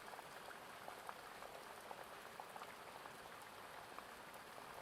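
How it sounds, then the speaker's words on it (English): Rain patters steadily on a conservatory roof, a soft, faint, dense pattering with scattered sharper drops, constant and even throughout with no voices. "You can hear the rain building on that conservatory as it gets heavier and heavier."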